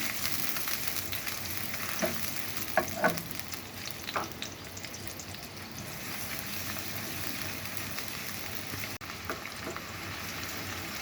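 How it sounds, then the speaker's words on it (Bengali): Chopped onions fry in oil in a pan, a steady close sizzle with a few brief stirring scrapes and clatters spread across it, no voices. "পেঁয়াজটাকে হালকা ভেজে নিচ্ছি"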